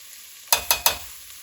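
Vegetables for a turkey and wild rice soup sweat in a pot under a soft, steady sizzle, broken by three quick scraping stirs close by.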